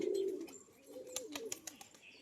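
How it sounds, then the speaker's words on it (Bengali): Pigeons, a male and a female, coo softly and repeatedly, with low throaty calls, mixed with scattered clicks and flutters at close range. "এটা নর এটা মাদি পায়রা"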